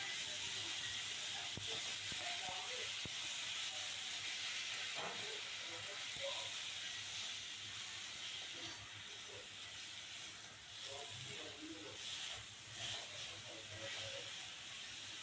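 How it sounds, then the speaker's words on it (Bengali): Ghatkol (taro stems) fry in a pan as the remaining water boils off, a steady, quiet sizzling hiss with scattered small crackles and a voice talking faintly in places. "আর সুন্দর করে আস্তে আস্তে জালে আমি করবো কি ঘাটকলগুলো আস্তে আস্তে ভাজা ভাজা করে নেব"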